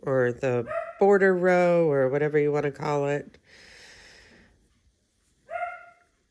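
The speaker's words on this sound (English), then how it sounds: "the elder dog barking in the background." An older dog barks off in the background while puppies try to play with her, the short barks sitting under and between close indoor speech as someone crochets a row.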